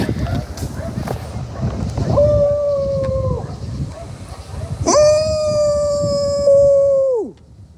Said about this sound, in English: did you hear the coyotes?